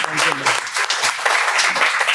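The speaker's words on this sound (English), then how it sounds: "I think we owe him a big round of applause" Audience applause for an ambassador at a formal talk event, dense steady clapping close by with a voice speaking over it briefly.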